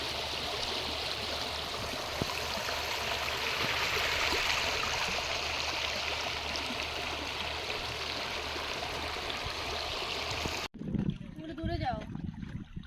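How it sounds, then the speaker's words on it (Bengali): River water flows in a continuous rushing wash, steady and close, then cuts off abruptly near the end as a person speaks. "দেখো জলটা বইছে, দেখছো কি সুন্দর লাগছে জলটা যখন বইছে।"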